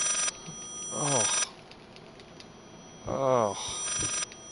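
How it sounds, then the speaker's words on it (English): A telephone rings in the horror video game Layers of Fear, two separate warbling bursts with a pause between them, heard over faint background ambience. "Oh, just answer the damn phone."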